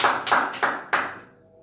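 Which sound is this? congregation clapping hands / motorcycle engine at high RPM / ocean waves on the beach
congregation clapping hands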